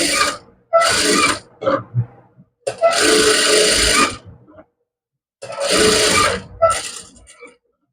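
A sewing machine stitches a heavy, lined suit in three loud, close bursts of rapid whirring with short stops and pauses between them, and no voices.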